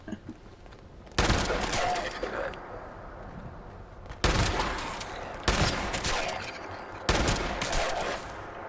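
Gunfire in the video game Fallout 76, four loud sharp bursts of rapid shots each followed by a decaying tail, separated by quieter gaps with faint background game noise.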